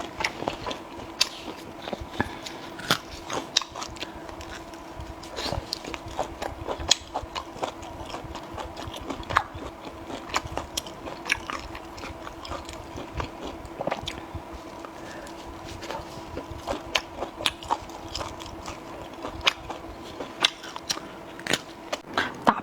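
Beef ribs being chewed during an eating show, with steady close crunches, wet clicks and smacking that repeat irregularly throughout, without talk.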